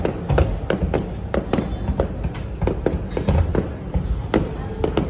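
Fireworks bursting at the Pattaya fireworks festival in Thailand, a dense run of sharp booms and crackling pops in irregular rapid succession, loud and close, with voices faintly audible among the blasts.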